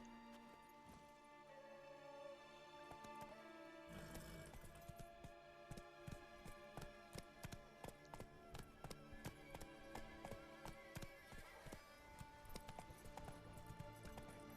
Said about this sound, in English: we will get to cantering and stay on the road here.